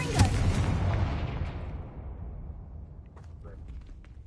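A Confringo spell explosion in Hogwarts Legacy, a loud deep boom that hits at once and rumbles away over several seconds, with faint debris clatter trailing off as the blast decays.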